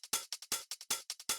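A dry, unprocessed fast techno top loop: crisp hi-hat and percussion hits in a tight, syncopated pattern, sharp clicky transients with near-silent gaps between, close and alone.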